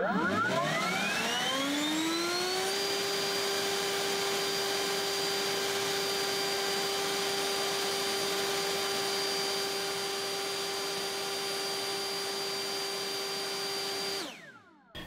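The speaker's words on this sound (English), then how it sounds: "So the next one is the Cobalt 80 volt blower." A Cobalt 80 volt cordless leaf blower whines up to its maximum speed within a few seconds, holds a loud, steady high-pitched roar, then cuts off and winds down near the end.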